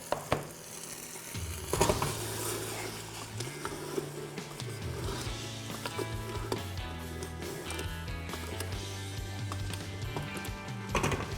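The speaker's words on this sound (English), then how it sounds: "And then we'll toss them in there, get them coated." About ten chicken legs tumbling and sizzling in a CanCooker for BBQ chicken, a steady frying hiss with soft stirring and scraping clatter running throughout, no talking.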